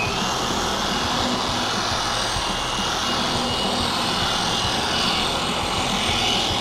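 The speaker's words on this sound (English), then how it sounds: "So let's go ahead and start the machine up." Gloss It cyclo polisher switched on and running during paint correction, a steady dense mechanical whir with a high hiss, constant and fairly close with no talking.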